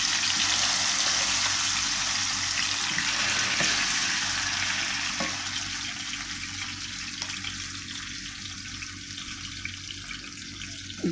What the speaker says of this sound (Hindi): बस इसी में ही ना ये बोटियाँ फ्राई हो जाएंगी